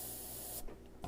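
Airbrush spraying paint in a steady, loud hiss that cuts off abruptly halfway through, then a brief faint puff of spray follows.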